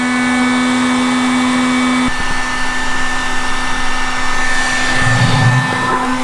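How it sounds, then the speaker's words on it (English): Heat gun or blow dryer running on high, stuck in the filler neck of a Yamaha RX50 motorcycle gas tank, giving a loud, constant blowing roar with a steady hum, a pitch shift about two seconds in, and a brief rustle near the end. "you take a heat gun or a blow dryer, stick it in the neck of the tank, turn it on high, and wait till she's dry"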